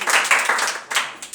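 Students in a Class 6 maths lesson on integers clap together in a classroom, a burst of a few quick, bright rounds of applause that fade out toward the end, with no talking over it.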